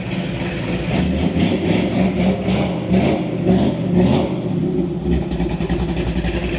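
A 1977 Chevy Blazer Chalet engine runs steadily and revs up in repeated swells, loud and close, with a rougher surge near the end and no talk over it.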